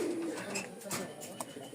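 Pigeons kept for sale coo softly in a loft, a few short throaty calls layered with faint chirps, partly under a voice.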